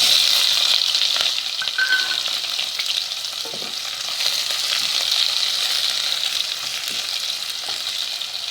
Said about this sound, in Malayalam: സവാള റോസ്റ്റ് ആവണത് വരെ ഒന്ന് വഴറ്റിയെടുക്കാം